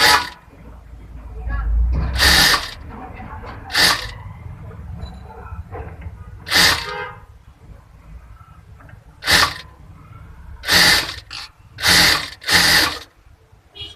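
A sewing machine stitches bra-cut blouse pieces in short, separate whirring bursts with quiet gaps between them, close by, with a voice talking in the background at times.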